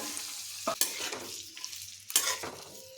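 Onions and red and green capsicum fry in a pan with a steady, close sizzle, broken by a few sharp scrapes of stirring.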